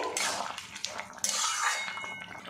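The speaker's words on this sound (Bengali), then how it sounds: "এবার এই কড়াটা আমি নামিয়ে নেব, ঢাকনাটা খুলে নেব।" A cooking wok holding papaya and potato curry taken off the heat and its lid lifted, a brief metallic scrape and clatter of lid against pan, close and clear, no voices.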